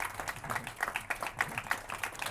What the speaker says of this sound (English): This has been an incredibly awesome round of applause for our panelists.